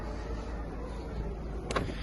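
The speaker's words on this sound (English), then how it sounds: "when you close the boot, it's just a simple touch of the button up here and it closes there" A powered boot lid on a Mazda CX-5 2.2 diesel Sport Nav closing at the touch of a button: a steady, fairly quiet electric motor whir runs throughout, ending in a brief soft thud near the finish.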